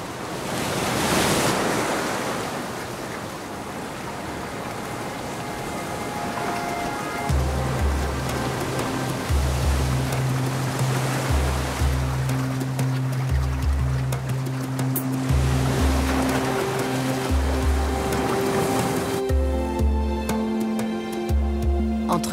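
Ocean waves break on a sandy shore with wind noise, a loud continuous wash of surf, while a low rhythmic musical pulse joins partway through.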